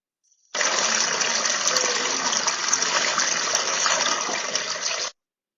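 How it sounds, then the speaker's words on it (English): Steady rushing water, like a stream or gushing flow, beside a dirt path in a video game, continuous and fairly loud for about four and a half seconds, then cutting off abruptly. "As we walk, I can hear the sound of water."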